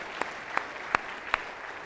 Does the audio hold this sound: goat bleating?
no